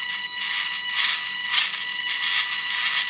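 A Losi micro RC car's small drivetrain whirs with a thin, high-pitched buzz while one tire is held still, rising and falling in short surges over a few seconds.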